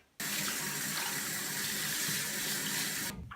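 Cold tap water gushes steadily into a kitchen sink over boiled cabbage, starting abruptly and running loud and close for about three seconds before cutting off.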